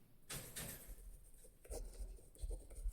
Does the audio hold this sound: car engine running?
no